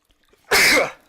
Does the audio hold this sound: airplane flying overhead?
no